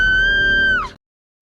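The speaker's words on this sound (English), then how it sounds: "If you need further evidence of the scream, I have it right here." A woman lets out a single loud, sustained high-pitched scream on a reality TV show, held steady for most of a second before it bends downward and cuts off abruptly into silence.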